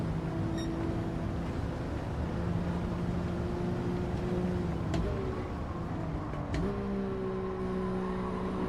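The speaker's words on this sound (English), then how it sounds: "Third gear, let's wind it up, get across the start finish line" Race car engine winding up in third gear on a track, a steady loud drone with pitch climbing gradually, then a short dip and a step as the revs shift.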